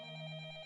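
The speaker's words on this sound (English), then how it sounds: "The phone? I picked up the receiver." Telephone ringing in the video game Up All Night during a snowstorm night, a single brief electronic ring tone, steady and moderately quiet, with no talk.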